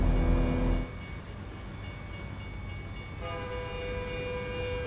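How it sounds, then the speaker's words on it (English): A train in American Truck Simulator rumbles past with a steady rolling clatter. A sustained horn tone sounds at the start and again toward the end. "Hear a train"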